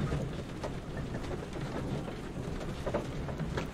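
Steady rain pours with low rumbling thunder in the Victorian London weather of the Sherlock Holmes: The Devil's Daughter video game, a dense, even hiss filling the whole stretch with no voices.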